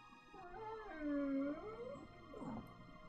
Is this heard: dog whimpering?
yes